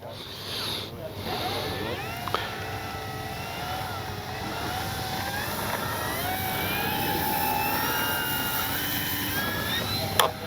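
A Flightline 1600mm P-51D Mustang RC plane takes off with flaps down, a steady high motor whine building gradually over a constant windy background. A voice talks throughout.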